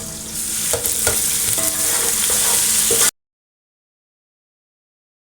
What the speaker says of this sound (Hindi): अब मैं इसमें अदरक लहसुन का पेस्ट डालूँगी।